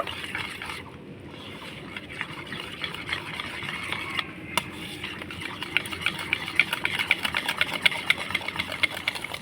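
A hand mixer whirs steadily as it beats a yogurt mixture for steamed sweet yogurt, a continuous buzzing drone with faint rattling that grows slightly busier toward the end.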